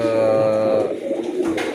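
Cooing from a racing pigeon in a loft, a low steady throaty coo held close and loud, with a brief softer call near the end.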